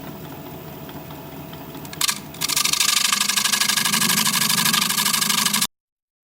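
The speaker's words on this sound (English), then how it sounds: "I might slow the speed of the lathe down just a little bit, try and keep the vibration down." A wood lathe spins a deep spalted maple bowl at 740 RPM with a steady mechanical hum, then a loud, harsh broadband scraping roar takes over and runs continuously until it cuts off abruptly.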